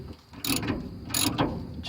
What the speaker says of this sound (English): I'm loosening these bolts that hold this on